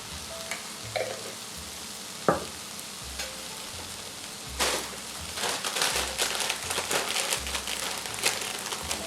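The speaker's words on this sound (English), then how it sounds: "A little bit of olive oil in the pan. Put a little bit of garlic in." Garlic sizzles in olive oil in a pan, a steady frying hiss with scattered crackles and pops that grows busier and louder toward the end, with no voices.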